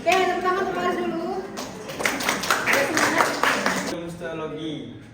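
Students in a cytohistotechnology class clap for a classmate, with a short burst of applause in the middle that is framed by a speaking voice before and after.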